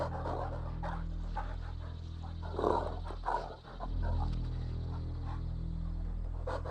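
Panting of a dog in the Warcraft Adventures: Lord of the Clans video game, a steady breathy rhythm that runs throughout over a low droning game soundtrack, with a brief louder burst in the middle.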